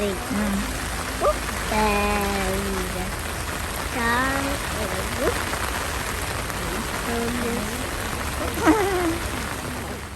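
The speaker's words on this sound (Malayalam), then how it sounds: "നല്ല അടിപൊളി മഴയാണ്." Steady heavy rain hisses on surfaces throughout, with voices talking and calling over the constant wash of falling drops.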